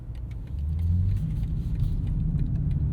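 A 2025 BMW M5 G90 hybrid rolls along as heard from the cabin, a steady low engine and road rumble that swells slightly after a soft start, with faint ticks and jingles above, no talking.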